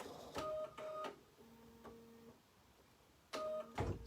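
An embroidery machine stitches out a green pumpkin stem, giving short bursts of rhythmic mechanical whirring separated by quieter pauses, close and clear.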